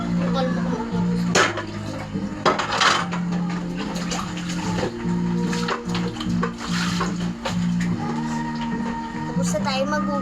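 Dishes and plates clatter and knock while being washed under running water, with repeated clinks and splashes over a steady low hum and talking in the background.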